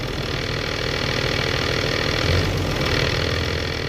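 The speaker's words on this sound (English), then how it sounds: "the noise that my G56 has been making ever since I put in a single mass flywheel clutch system" A Ram 2500 pickup with the 6.7 engine and a G56 manual transmission, refitted with a single mass flywheel clutch, runs at a steady idle. A loud, close, continuous rumbling drone with a faint rattle persists throughout, with no talk.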